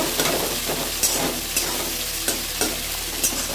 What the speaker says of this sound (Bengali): আমি পেঁয়াজ কাটা ভেজে নিই।